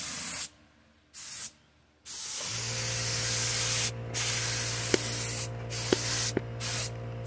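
A spray gun hisses in long bursts as paint goes onto the top of a 1997 Dodge Neon bumper, with gaps between passes and a steady low compressor hum underneath. Later bursts are shorter and are broken by a few sharp clicks.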